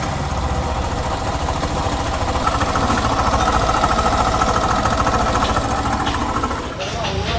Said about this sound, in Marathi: तर हा इंजिनचा आधीचा आवाज आहे